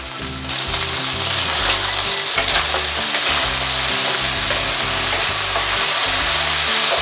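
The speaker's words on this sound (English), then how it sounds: "let it cook, let it sear for about a minute before we touch it again" Beef pieces searing in a hot pan for a Chinese beef and pineapple dish, a loud, close, continuous sizzle and crackle with a constant low hum beneath, no talk.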